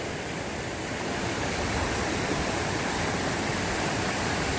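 Steady rushing water of the Kennebec River, a dense broadband roar that stays constant and close throughout.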